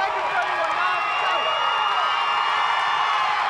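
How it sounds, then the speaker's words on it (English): Crowd noise at The Woodlands Highlanders versus Rockwall Yellowjackets region final baseball game, a steady loud roar of cheering and clapping with the bases loaded, mixed under ongoing commentary. "Now you hear the Woodlands crowd coming to their feet."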